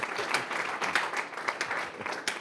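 A short burst of lively applause from a small audience at a leadership talk, many hands clapping in a dense, uneven patter.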